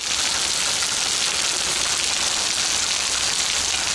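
A heavy rain downpour roars as a dense, unbroken hiss, loud and even throughout, while a car is being repaired outdoors; no one speaks.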